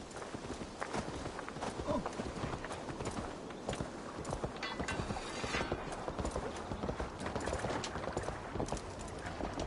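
Steady clip-clop of horse hooves trotting continuously, close and rhythmic, with occasional creaks and rustles mixed in, in the video game Assassin's Creed Valhalla.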